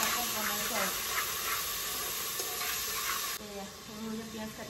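Tomatoes fry with ginger-garlic paste in a pan, giving a soft, steady sizzle and hiss with faint stirring scrapes, fairly quiet throughout.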